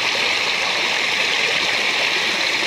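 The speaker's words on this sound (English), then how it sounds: "They pump the water up. It goes into this freaky looking dish up here," Water spills down a Parshall flume fountain in a loud, steady rush, an even roar of flowing water close by that runs unbroken from start to end with no voices.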